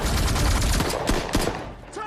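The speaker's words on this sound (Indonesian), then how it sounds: "Dan baku tembak pun tak terelakkan." Dense gunfire during an action film shootout, a loud, continuous barrage of overlapping shots and impacts with rapid bursts that fill the whole moment, no talk over it.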